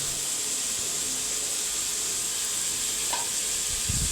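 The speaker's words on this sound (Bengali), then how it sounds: "কষিয়ে নেওয়ার পর আমি ধুয়ে রাখা ফুলকপি এবং আলুটা ওর মধ্যে দিয়ে নিচ্ছি।" Cauliflower and potato pieces frying with spices in a pan give a constant loud hiss, with a brief clatter near the end as the vegetables go in.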